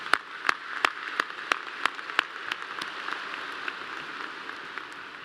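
A graduation ceremony audience at Clemson claps, opening with sharp, evenly spaced claps that fade into a softer, thinning patter of applause.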